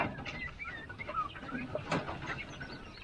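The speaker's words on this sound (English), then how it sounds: "These are the jumbo browns, so they get quite a bit bigger than your standard Coturnix quail." Jumbo brown Coturnix quail in a pen chirp and chatter in short, busy calls, close by and steady over soft background noise.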